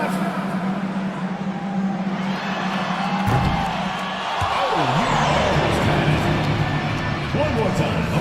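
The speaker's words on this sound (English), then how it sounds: "One more time, a round of applause." Crowd noise in a basketball arena after a fan's half-court shot attempt, a broad roar of applause and cheering with an announcer's voice carrying over it, loud and sustained throughout.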